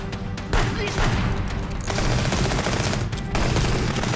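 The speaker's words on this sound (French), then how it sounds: "Oh la dinguerie, la mitraillette." Rapid bursts of machine gun fire in the video game Contraband Police, dense rattling volleys with short breaks between them, loud and close.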